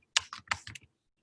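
Several quick keystrokes on a computer keyboard, a short burst of about five or six crisp clicks in close succession, near and clear against an otherwise silent background.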